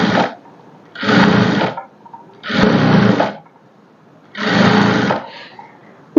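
A sewing machine runs in four stitching bursts of about a second each along the neck edge of a plain straight-cut blouse, with quiet pauses between runs and no talking.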